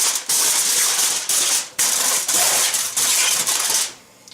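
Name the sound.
tin foil being placed into a roast rack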